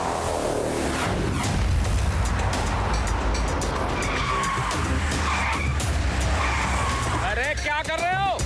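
A cartoon car skids to a sudden halt with a long screeching tire squeal over busy music and effects, ending in a sharp wavering squeal.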